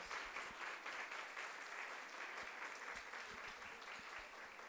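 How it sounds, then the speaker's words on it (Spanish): Audience applause at a sales compensation plan event, a steady wash of clapping from a crowd that stays even and fairly distant for the whole stretch, with a few louder claps popping through. "Un aplauso para ellos."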